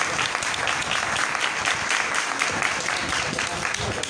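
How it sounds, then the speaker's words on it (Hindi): An audience at a church service on Christ's words from the cross breaks into strong, continuous applause, a dense even clatter of many hands close by with no talk over it. "जोरदार ताली बजाएंगे।"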